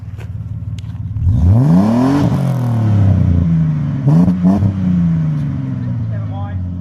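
A car fitted with a performance exhaust revs up twice, rising and falling in pitch, then settles back to a rumbling idle, loud and close, with a voice speaking over it.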